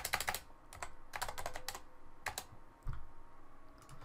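Quick bursts of keystrokes on a computer keyboard while working in Unreal Engine, clustered clicks in several short runs with brief pauses, close and fairly quiet, no talking.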